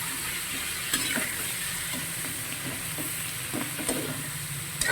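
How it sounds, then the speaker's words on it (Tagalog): Shredded cabbage goes into a hot frying pan for a Batangas-style lomi and is stirred, giving a steady sizzle with a few scraping stir strokes, close and alone without talk. "Lagyan natin ang repolyo."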